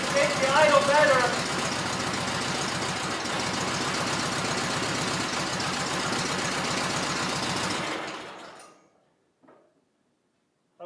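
A rebuilt John Deere 317 garden tractor engine runs with a steady, rough, close-up chugging, then shuts down and fades to near silence with a faint click at the end; a voice is briefly audible over the start.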